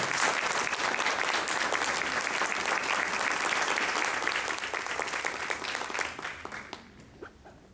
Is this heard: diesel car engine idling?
no